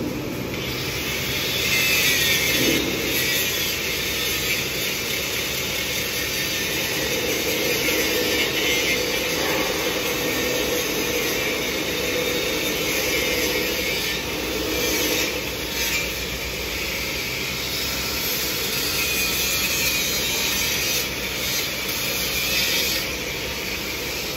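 Steady, continuous abrasive grinding of an electric sander working the metal of a tractor being welded, loud and unbroken throughout with a constant high whine over it; no voices.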